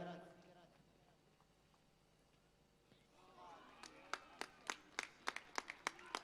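Spectators clapping at a local cricket semi-final: a faint crowd murmur gives way to a run of sharp, separate claps, close and loud, in an uneven rhythm over the last couple of seconds.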